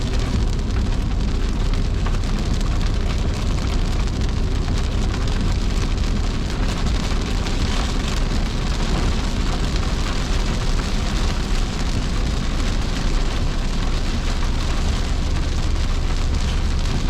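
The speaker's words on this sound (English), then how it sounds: "it started to rain again" Heavy rain falls steadily and loudly during a storm while driving through Ouachita National Forest, a constant dense hiss with no pauses and no voices.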